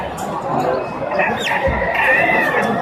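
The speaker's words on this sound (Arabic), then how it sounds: "هذا ديك هذا اللي دجاج" Roosters and chickens at a Friday animal and bird market crow and cluck amid general market noise, the crowing standing out in the middle and end of the stretch.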